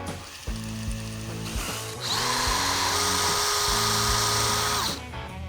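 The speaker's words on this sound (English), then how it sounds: "we're gonna go the rest of the way in with our smaller 3/8 inch drill bit" A power drill with a 3/8 inch bit whirs up, bites and grinds steadily through material for a few seconds, with short starts and stops before and after.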